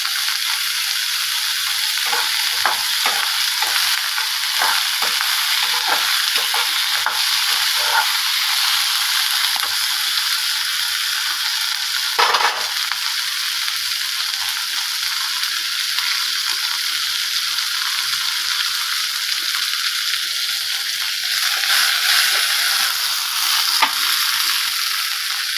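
Vegetables fry in hot oil with a steady, even hiss that runs unbroken from start to finish at a close, constant level, broken only by a few faint clinks.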